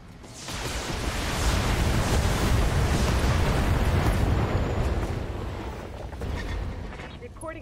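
Mech weapons firing in the PC tactical game Battletech: a loud, sustained roaring blast swells in, holds for several seconds, then eases off, with a second smaller surge near the end.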